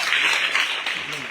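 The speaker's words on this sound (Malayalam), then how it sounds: "കൊടുത്തു കയ്യടി." An audience at a school gathering claps in a steady burst of close applause for about a second, while a voice speaks over it.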